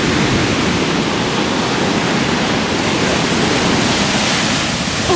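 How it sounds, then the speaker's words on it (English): Large ocean waves surge and break continuously at a cold beach, a loud, steady broadband roar with no distinct pauses and no voices over it. "Look at the waves, guys. They're huge."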